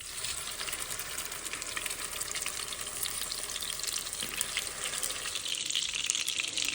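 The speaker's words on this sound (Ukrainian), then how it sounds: "Ось такі красавці у нас будуть смажитися на середньому вогні, все ж таки під кришкою, тому що в нас є м'ясо." Zucchini fritters with meat fry over medium heat in a covered pan, giving a steady, dense hiss and crackle that stays even throughout with no voices.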